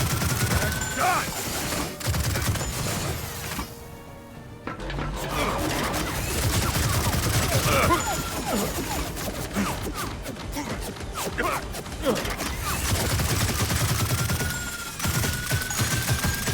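Heavy gunfire from the Gears of War 4 campaign crackles in dense, near bursts across the whole stretch, briefly dropping out around the fourth second before loud rapid volleys and impacts resume.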